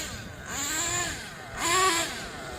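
A Kyosho USA-1 Nitro V2 RC monster truck's small nitro engine screams at full throttle in two rising revving bursts, a buzzy high-pitched whine that swells and falls, fairly close.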